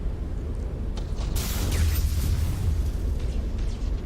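Bomb and torpedo blasts hitting ships in the space battle game Battlefleet Gothic Armada, a loud rumbling burst that swells and lingers over dense low booming, with no voices over it.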